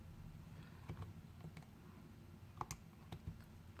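Faint, close clicks of calculator buttons sound one after another at an uneven pace over a quiet background, with no voice.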